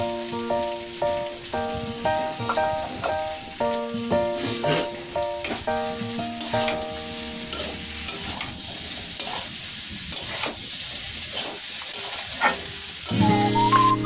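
Vegetable curry masala sizzles in a pan and is stirred with repeated scraping strokes, the moderate frying hiss sitting under melodic background music.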